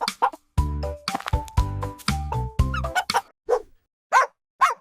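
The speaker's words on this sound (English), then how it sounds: "Dog. Our best friend." Several loud, close dog barks in quick bursts with short gaps, followed by a few sharper isolated yips, with no talk over them.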